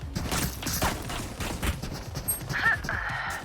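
Rapid bursts of gunfire in the tactical shooter Valorant, several sharp shots in quick succession, with excited players talking over the action.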